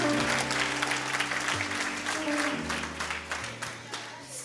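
Audience applause for finalists at the 2023 Western Cape Prestige Agri Awards gala, a sustained wash of clapping that fills the hall throughout, with low music tones and murmured voices underneath.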